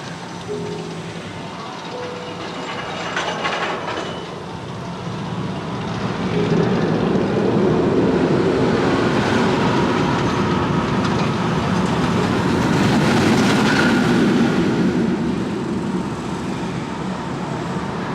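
A train at SeaWorld San Antonio rumbles past nearby, a steady broad roar that swells midway and holds, with faint rhythmic rail clatter and no talking.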